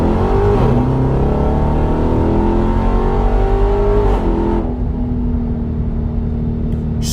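Car accelerating hard from 40 in second gear, the engine note climbing steadily and loud, then a brief lift before revs drop and a lower steady drone follows.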